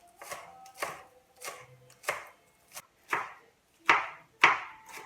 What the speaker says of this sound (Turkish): iç harcımız için yeşil soğan ve dereotu hazırlıyoruz